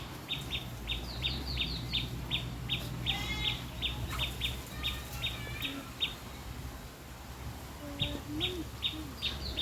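Small birds chirp outdoors in quick, evenly spaced bursts, near and clear, with a steady low rumble underneath and a brief pause before the chirping resumes.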